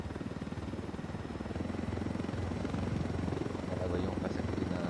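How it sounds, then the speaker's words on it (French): A helicopter from the Unidad forces in Ghost Recon Wildlands, its rotor throbbing steadily and loud throughout, gradually swelling as it passes close, with a voice talking over it. "on passe à côté d'un hélico de l'unidad"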